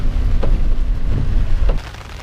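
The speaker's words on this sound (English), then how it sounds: "It's raining." Heavy rain pours down outside at a Southwick campsite, a steady, dense wash of drops drumming on surfaces with a low rumbling undertone, close and continuous throughout with no voices.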